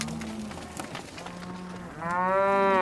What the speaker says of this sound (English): Come along, cows.